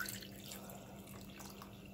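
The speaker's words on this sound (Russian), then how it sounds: "Наливаю грамм 100-120 воды кипяченой." Boiled water is poured into about 800 grams of minced meat, a soft, faint and continuous trickle heard alone in a quiet kitchen.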